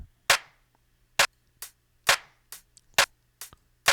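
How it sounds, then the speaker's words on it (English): A sparse programmed beat of sharp, isolated snare and clap hits sits over a faint low hum, the clap layered onto every other snare, with crisp transients and short decays spaced roughly half a second apart. "We got this snare going. And then this clap on every other snare, just to give it some room."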